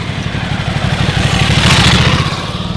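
Ducati Scrambler Sixty2 motorcycle engine with the standard exhaust runs loud and close, a steady pulsing rumble with a slight rise in revs midway and no talk over it.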